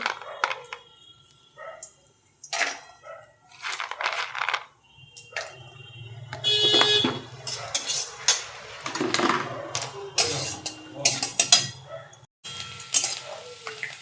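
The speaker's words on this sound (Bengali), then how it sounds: "আমি চীনা বাদাম নিয়েছি, চীনা বাদামটাকে ভাজবো।" Peanuts frying in well-heated oil for a banana-flower chop, with irregular bursts of crackling and popping that swell and fade, loud and close, with no talking.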